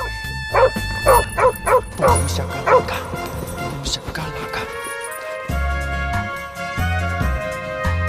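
A dog held on an iron chain barks in a rapid series of loud yips and whimpers near the start, then a music score takes over. Speech is heard as well.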